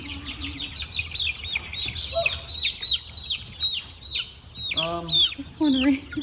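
Barred Rock and Isa Brown chicks peep and chirp in a dense, continuous high twitter, with occasional louder close calls and a short clucking hen-like note near the end, under a faint low rumble.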